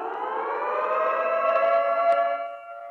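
Air raid siren effect from a Minecraft nuke mod, a loud wailing civil-defense tone that holds steady and rises slightly in pitch before tapering off near the end.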